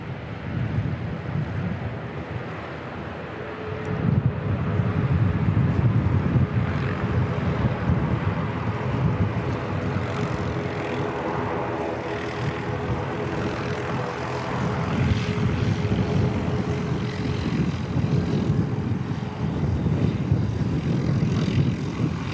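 A small propeller plane comes in to land on the grass strip at Christchurch Airport, its steady engine drone rising after a few seconds and holding loud throughout, mixed with gusty wind noise on the microphone and no talk.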